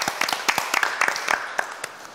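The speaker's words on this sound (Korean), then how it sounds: "박수 한번 주세요" A small group of adult learners in a literacy class claps together, a brief burst of fairly close, uneven applause that lasts about two seconds.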